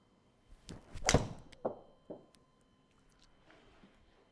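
A golf ball struck with a 3-iron on an indoor golf simulator, giving a single sharp thunk followed by a few softer thuds as the ball hits the screen and bounces, fairly close in a quiet room.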